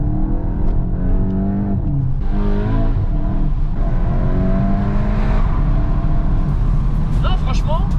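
Volkswagen Golf 8 GTI accelerating hard in sport mode, engine note rising through gears with a shift, heard from inside the car while a person talks over it.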